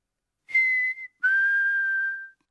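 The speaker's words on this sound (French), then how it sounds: "Maman Pig sait siffler." A cartoon character whistles two clear, sustained notes in an animated children's show, a short held tone followed by a longer steady one, close and alone with no talk.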